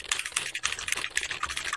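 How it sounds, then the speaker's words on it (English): Fingers typing on a mechanical computer keyboard, a fast irregular run of crisp clacking keystrokes heard up close and alone, with no voices over it. "You guys want keyboard sounds?"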